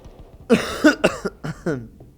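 A man coughs hard several times in a row, harsh raspy bursts spaced irregularly and close to the microphone, the last one softer.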